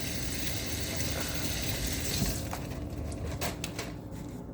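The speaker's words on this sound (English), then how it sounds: "And wash my hands again." Hands are washed under a running kitchen tap, a continuous gushing water stream close by that thins and breaks into splashes and drips toward the end, with no voices.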